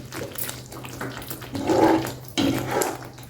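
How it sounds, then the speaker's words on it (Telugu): Tamarind extract poured into a stuffed eggplant curry in a pan, a wet splashing pour in two short bursts, close and fairly soft, with no talking. "ఈ పులుసుని ఇందులో వేసేయండి చింతపండు పులుసుని"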